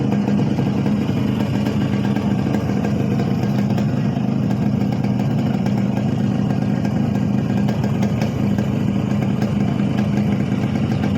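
A Yamaha RX115 motorcycle engine runs at a steady idle, giving a continuous close, loud mechanical drone with a light clatter throughout and no voices.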